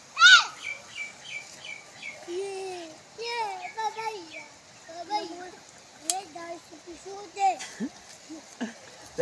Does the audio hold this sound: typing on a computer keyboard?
no